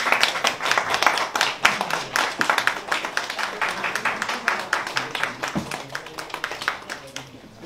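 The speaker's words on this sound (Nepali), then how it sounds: "जोरदार ताली साथीहरू एकपटक" Audience applause at a gathering, brisk hand clapping, close and lively, tapering slightly near the end.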